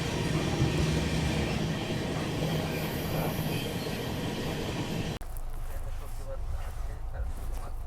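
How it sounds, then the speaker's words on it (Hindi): The Hatia Bangalore Express passes in the up direction near a railway shed and yard at night, a continuous rumbling roar that cuts off abruptly partway through and drops to a quieter hum. "वो देखो वहाँ अप डायरेक्शन वाली ट्रेन जा रही है"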